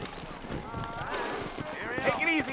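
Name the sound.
horse hooves clip-clopping, from video game Red Dead Redemption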